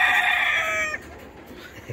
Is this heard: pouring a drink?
no